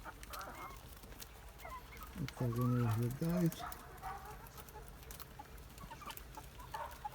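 Older Jersey Giant chicks make a short, loud run of clucking calls in a pen, heard briefly close by, while a person talks before and after.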